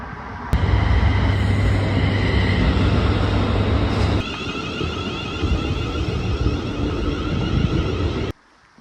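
A train's steady broadband rumble and hum, loud and close, shifts tone partway through and then continues until it suddenly cuts out near the end, with no talking over it.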